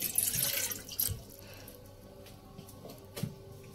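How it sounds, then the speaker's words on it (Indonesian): Water pours into a cooking pot to start a sugar syrup for a mango iced drink, a short splashing run that tapers into quieter trickling and a few drips, fairly close and alone. "Kita masukkan air."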